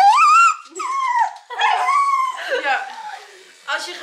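A dog whines and whimpers at a grooming salon, with high, wavering cries coming in several close bursts and short yips between them. No one speaks over it.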